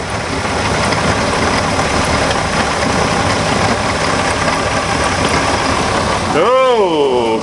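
A cold Chevrolet Monza engine runs steadily after cranking, a loud continuous rumble for the whole stretch, with a brief rising and falling whine near the end.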